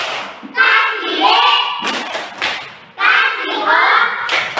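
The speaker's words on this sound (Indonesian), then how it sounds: "Tepuk wow untuk kelompok Maraga" Children in a classroom perform the tepuk wow clap chant, with loud bursts of clapping and chanted voices in two rhythmic phrases separated by a brief pause.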